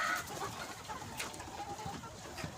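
Sonali chickens on a poultry farm flock of about 1200 birds, mostly roosters, clucking and calling in a steady busy chorus with scattered nearer squawks over constant background noise.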